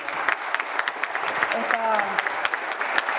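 An audience at an evening lecture in Paraguay claps in brief, steady applause, with a voice speaking partway through.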